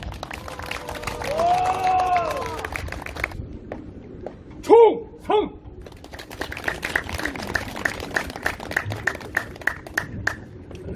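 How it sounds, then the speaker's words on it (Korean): Crowd applause and clapping greet the first speaker at an ROTC patriotic association rally condemning election fraud, a dense patter of claps building in the second half after a sharp shouted salute and earlier talk. "큰 박수로 맞이해 주시기 바랍니다"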